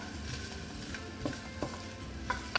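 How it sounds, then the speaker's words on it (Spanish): Chopped onion sizzles steadily in about two tablespoons of hot oil in a pan, a continuous frying hiss with a few light clinks of a stirring utensil. "Vaciamos la cebolla y sofreímos"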